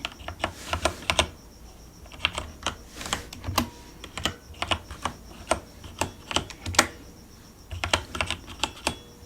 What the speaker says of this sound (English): let me type that one in